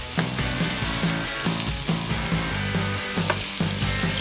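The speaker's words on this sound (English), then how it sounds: "after about a minute or so, we're going to add our diced bits of pork shoulder." Diced pork shoulder sizzles in a pan for fried rice with a steady hiss, broken by repeated rhythmic clacks of a utensil tossing and stirring the meat, close up and with no voices.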